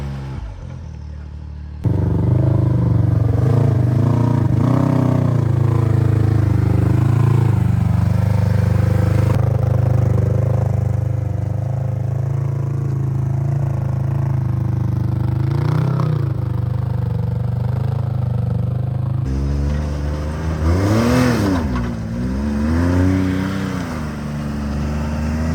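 A Kawasaki KRX 1000 and a Can-Am X3 Turbo RR side-by-side drive over the sand at Sand Hollow, Utah, their engines droning steadily and rising into revs near the end.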